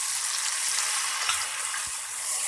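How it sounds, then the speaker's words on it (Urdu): Tomatoes fry with browned onions in a pan, giving a steady, close, broadband sizzle that holds level throughout, with no voices. "اب اس میں ہم ٹماٹر شامل کریں گے"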